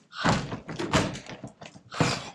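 A door in an abandoned manor pushed open with a few close, dull thunks and knocks spread over a couple of seconds, each a short heavy thud of old wood.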